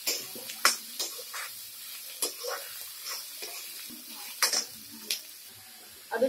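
Onions going into hot oil already frying cumin seeds and cut chili for onion kachori filling, a faint sizzle broken by sharp spoon scrapes and clinks against the pan, close and fairly quiet.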